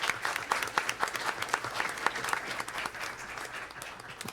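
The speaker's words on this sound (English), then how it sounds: "another round of applause for the Aqua Tigers" An audience at a school board meeting applauds the Aqua Tigers with a round of steady clapping, moderately distant and fairly even, swelling slightly at times.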